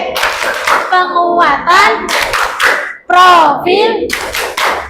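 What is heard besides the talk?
class doing rhythmic P5 clapping chant together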